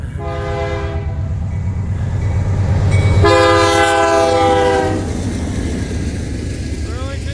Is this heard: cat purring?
no